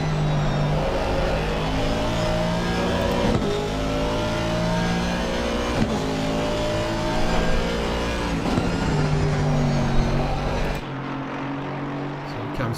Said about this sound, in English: Drifting the car through Sheens.